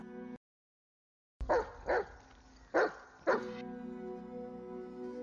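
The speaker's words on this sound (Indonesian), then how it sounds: "Anjing itu juga menggonggong di sumur dekat biara." A tracking dog barks four times in short, loud bursts at a crime scene near an old well by a monastery, with pauses between the barks against a steady low background hum.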